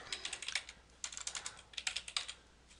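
Close, crisp keystrokes on a computer keyboard come in quick irregular bursts with short pauses between them, alone and without any talking.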